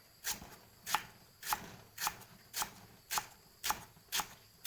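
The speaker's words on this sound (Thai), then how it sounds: "หั่นเอาทั้งหมดเลยนะครับ เอาทุกส่วนเลย" Crisp, steady knife chops slice banana shoots into pieces, roughly eight even strikes in quick succession, close and clear with no voices.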